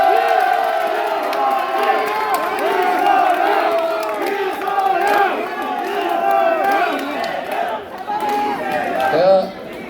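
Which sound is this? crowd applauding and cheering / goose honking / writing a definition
crowd applauding and cheering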